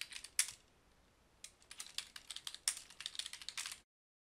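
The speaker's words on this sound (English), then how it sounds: "I'll come up into the search area here and just type in Utah County Morning." Someone types on a computer keyboard, entering a search term: quiet close clicks, one key tap, then a rapid run of keystrokes that stops abruptly.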